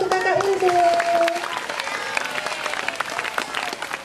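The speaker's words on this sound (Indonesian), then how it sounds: "Tolong tepuk tangan untuk Kakak Untung" An audience at a university faculty's National Children's Day opening applauds a vice dean, sustained crowd clapping under a short musical tone and some background voices.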